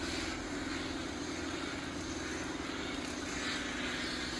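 An embroidery machine running in turbo mode in an embroidery business workshop, giving a steady, dense, continuous mechanical whir and hum at low level with no break, no talking.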